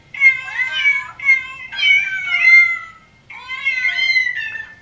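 Recorded cats meowing, played close to a dog: a run of loud, drawn-out meows in three bursts with short gaps between them, with no talking over them.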